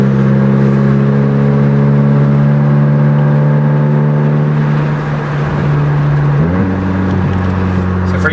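Loud idling car engine fitted with a custom quad-tip exhaust, a steady deep drone that shifts pitch near the end as the revs change, close and continuous without talk.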